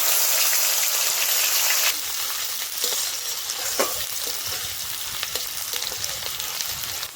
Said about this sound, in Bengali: আমি কাঁচা পেঁয়াজটা দিয়ে দিচ্ছি, কুচানো পেঁয়াজটা ভেজে নেব।